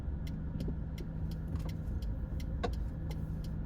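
Road traffic near Brickell in Miami, heard from inside a car as a steady low engine and road rumble with faint ticking clicks throughout and a brief rattling knock partway through.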